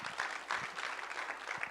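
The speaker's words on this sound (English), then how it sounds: "Ladies and gentlemen, please, with a round of applause, let us welcome the Provost," Audience applause at a prostate cancer awareness event welcoming the Provost, a brief, steady wash of clapping from a seated crowd at moderate level with no talk over it.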